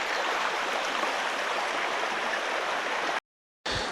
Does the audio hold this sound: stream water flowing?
yes